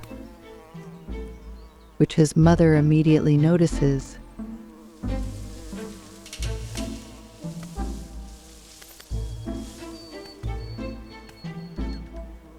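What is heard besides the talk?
wasp buzzing around a wolf cub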